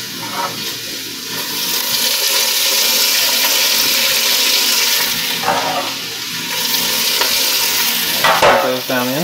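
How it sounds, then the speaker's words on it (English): Vegetables and chicken searing in a hot pan for a pot pie, a steady loud sizzle with scraping stirs and occasional clinks of the utensil against the pan, with no talking. "the point of this sear that we're doing is really just to build up some flavor in these veggies and meat"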